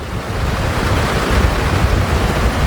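Athirappilly waterfall in Kerala, a large cascade, produces a loud, continuous broadband roar of rushing water with steady, dense intensity and no pauses or voices.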